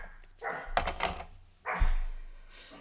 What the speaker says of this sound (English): I don't know why Daisy's barking, but Daisy's barking.